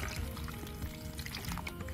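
Water poured into potting soil while preparing a pot for baby sunrose cuttings, a soft steady trickling and gurgling pour running close and continuous, with no talk.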